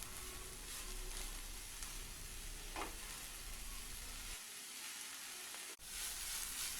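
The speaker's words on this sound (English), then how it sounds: "2½ cups of washed and chopped spinach or greens. Cook this over medium flame for 7 to 8 minutes." Washed, chopped spinach cooking in a pan over a medium flame for spinach rice gives a steady close sizzle and frying hiss, with a brief stirring scrape and a short dip near the end.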